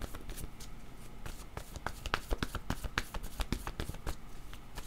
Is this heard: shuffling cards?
yes